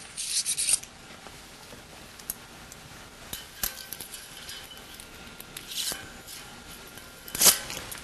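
Metal strap and slide bolt being fitted around a pipe, with scattered rubbing, scraping and clicking handling noises, mostly faint, plus a few louder bursts.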